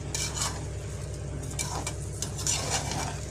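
Soaked rice sautéed in ghee in a pan for mushroom biryani, a continuous low sizzle with repeated scraping and clinking of a spoon against the metal pan, close and steady, with no talk.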